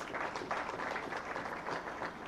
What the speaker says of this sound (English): Can we clap for our teachers?